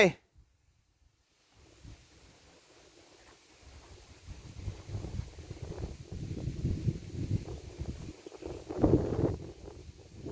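Cool wind gusts outdoors at a farmland pond excavation site, a low rumbling buffet against the microphone that builds from near silence to steady, louder gusts, with faint voices underneath.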